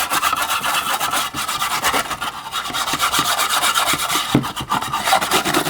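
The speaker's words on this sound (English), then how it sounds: "I'll give it a scrub." Rust scrubbed off the firebox of a German Bing large horizontal model steam engine, a close, continuous scratchy rubbing rasp with quick back-and-forth strokes, no voices.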